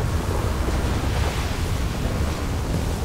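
A car drives across water in the GTA 5 video game, producing a loud, steady wash of splashing and rushing water noise that fills the whole stretch with no pauses.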